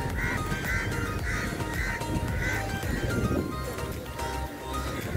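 Crows caw repeatedly in short harsh bursts over a busy outdoor background hum in Muteena Park, Deira, Dubai, several birds calling at a moderate distance.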